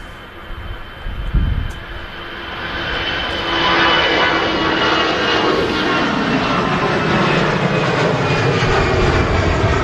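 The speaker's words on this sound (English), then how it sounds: "EasyJet rolling to Belfast, so a relatively short flight." An EasyJet airliner taxis at Manchester Airport, its engine roar building steadily from a quieter start into a loud, sustained whine and rumble that holds to the end.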